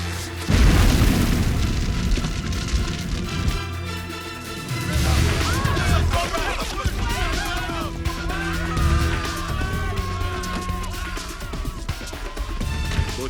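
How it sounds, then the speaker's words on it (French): Film explosion: a heavy, sustained boom rolling on for several seconds, then crackling debris and fire with dense rumbling, loud and close throughout. "Et que ça saute, vas-y, fais tout exploser."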